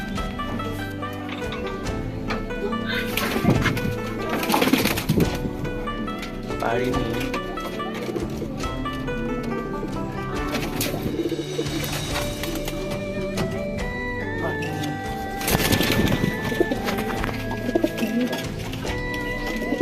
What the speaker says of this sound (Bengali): আমরা পায়রার ঘরে চলে এসেছি, দেখি কে কোথায় ডিম পেরেছে